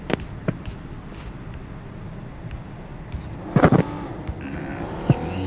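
A vehicle being driven in the PUBG Mobile video game, a steady rumbling engine hum with a few clunks and a brief louder burst midway, no speech.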